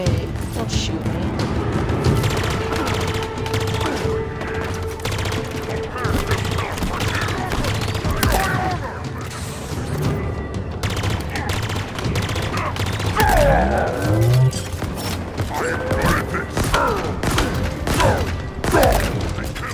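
Gunfire in Halo Infinite crackles in repeated bursts and volleys amid thuds and mechanical game effects, sustained and fairly loud throughout, with a voice talking over parts of it.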